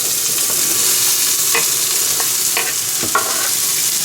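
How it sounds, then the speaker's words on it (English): Chopped onions and capsicum sauté over high heat for a Napoli sauce, giving a steady loud sizzle with several sharp scrapes and clacks of a utensil stirring the pan. "So I chopped up about 3 onions and two capsicum. I'm just going to lightly saute them in here."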